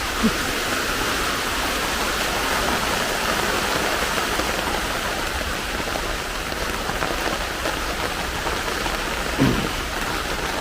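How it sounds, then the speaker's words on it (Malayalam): Heavy rain pours down steadily, a dense, even hiss of water drumming on surfaces with no letup. "ഇപ്പം നല്ല മഴയായിരിക്കും"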